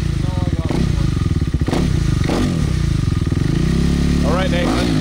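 A 2020 Yamaha YZ450F dirt bike engine runs loud and close, idling with a rough, pulsing thump and throttled up in several sharp blips, with clattery mechanical noise and voices speaking over it.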